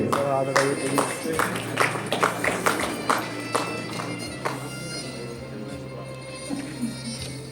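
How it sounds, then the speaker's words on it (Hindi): Applause from a conference audience welcoming a guest onto the stage at an entrepreneur conclave in a hotel hall, a steady patter of clapping with some sharp individual claps standing out, which thins and fades toward the end. "आप सभी लोग उनके जोरदार तालियों के साथ स्वागत करेंगे"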